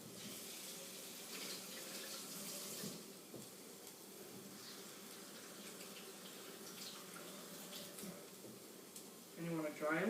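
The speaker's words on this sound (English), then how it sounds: "First, we need to wash our tomatoes thoroughly." Tomatoes are washed under a running kitchen tap, giving a steady, close hiss of flowing water that continues through the clip, and a voice briefly comes in at the end.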